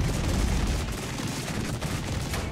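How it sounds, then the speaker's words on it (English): Cluster artillery rounds strike in the Regiments war game, a dense rattle of many small blasts crackling together in a loud, continuous barrage. "Here comes the artillery. There it is,"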